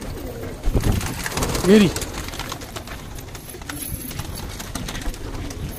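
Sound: pigeon cooing

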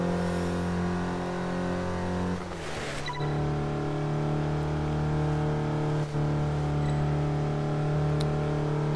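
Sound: car engine driving in Test Drive Unlimited 2 video game

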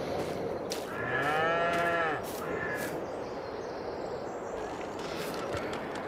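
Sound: cows mooing in a video game

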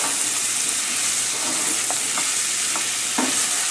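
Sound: spoon stirring vegetables in pan

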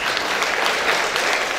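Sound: audience applause welcoming a contestant

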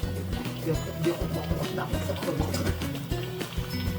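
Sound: stew bubbling as it boils

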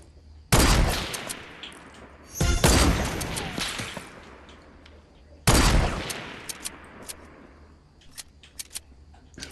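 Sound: sniper gunfire in video game Fortnite

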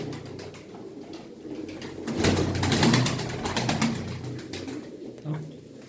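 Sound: pigeons cooing

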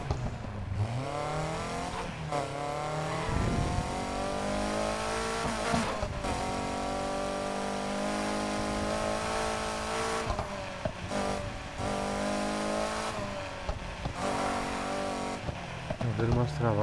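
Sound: upgraded car engine revving in video game Need for Speed Heat

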